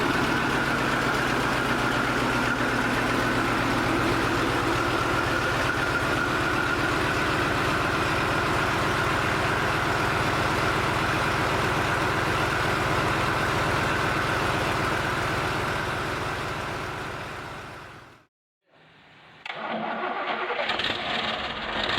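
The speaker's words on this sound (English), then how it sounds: "The Deutz BF8M1015CP is a water-cooled, turbocharged V8 diesel engine engineered for heavy-duty industrial and mobile applications." A Deutz BF8M1015CP water-cooled turbocharged V8 diesel engine runs at a loud, steady idle, a dense continuous rumble that is cut off abruptly near the end and then restarts.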